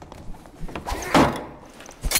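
A door swinging open in the dark fantasy dungeon game Dark and Darker, heard as a short creaking, thudding burst mid-clip amid quiet game ambience, with a second brief knock near the end.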